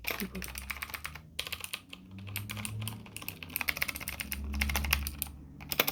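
Clicky typing on a mechanical keyboard fitted with blue switches, a fast stream of sharp close keystrokes in bursts with short pauses, a low hum underneath.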